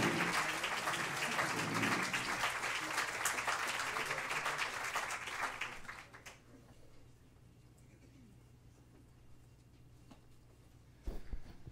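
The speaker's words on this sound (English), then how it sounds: "give them another round of applause" Audience at an evening lecture on racism and health gives the speakers a round of applause: dense, loud clapping for about six seconds, then it stops abruptly, leaving a quiet room with faint rustles.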